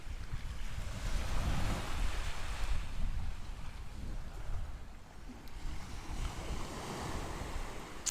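Wind and sea waves on the Holderness coast near Withernsea, a broad steady roar of surf with gusty wind buffeting the microphone, continuous and fairly loud with no voices.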